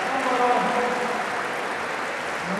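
Sustained applause from an audience at a Slovenian sports awards ceremony honoring an athlete, a steady dense wash of clapping that stays loud throughout.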